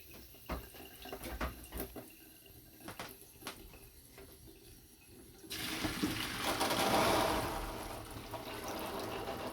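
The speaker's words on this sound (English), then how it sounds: "with the cold tap running, and we're going to drain it off" Clattering and knocks, then a cold tap starts running and water gushes steadily into a sink while reishi mushrooms are drained, a loud continuous splashing rush that carries on to the end.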